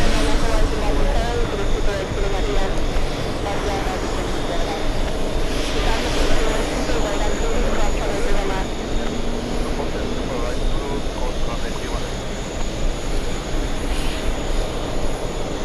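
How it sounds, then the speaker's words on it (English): A jet airliner takes off at JFK airport, its engines producing a continuous broad roar that fills the scene, loud and steady throughout. "This is a takeoff over here."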